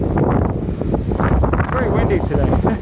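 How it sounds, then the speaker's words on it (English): Strong outdoor wind buffets the microphone beside a kendo dojo, a steady roaring rush that fills the whole clip, with a person talking underneath. "It's very windy today."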